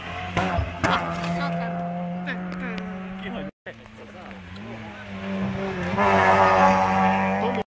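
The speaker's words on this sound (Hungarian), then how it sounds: "Még vinnyognak a gumik." A rally car drives hard on a stage, its engine revving and dropping as the tires squeal, with a brief cut partway through before the engine surges louder again; spectators talk nearby.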